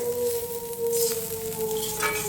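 Onion, garlic and ginger paste sizzles steadily in a hot pan for a drumstick upma, with soft stirring scrapes running through the continuous frying hiss and no voices.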